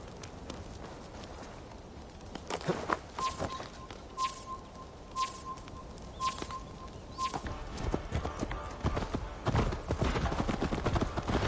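Horse hooves clip-clop along at a walking pace in the video game Assassin's Creed Valhalla, steady and close, with a faint tonal beeping partway through.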